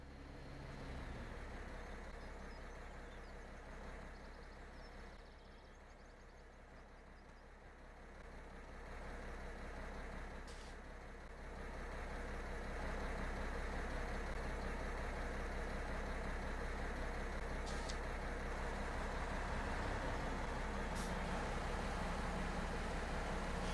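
A truck engine idles steadily in a farming video game set in Italy, a constant low drone holding for the whole stretch with slight swells in level, alone with no talk.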